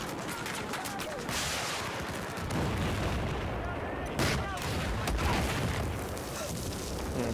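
Sniper fire and battle noise in Battlefield 4 form a dense, loud wash of shots and booms, with sharper cracks standing out from the constant din of combat.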